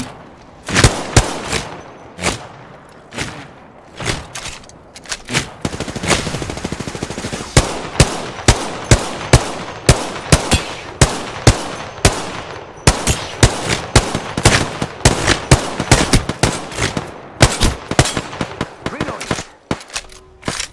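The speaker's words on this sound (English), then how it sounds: "Getting shot at!" Gunfire in the Apex Legends video game, dense bursts of rapid automatic shots and single cracks, loud and close, continuing throughout with brief pauses between volleys.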